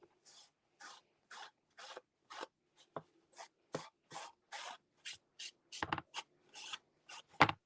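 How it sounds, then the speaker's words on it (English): An old sponge is rubbed over gilded leaf to take it off. It makes a rapid series of short, dry scratchy rasps in a steady rhythm, close and fairly quiet, with no voice present. "I just take an old sponge and rub that off"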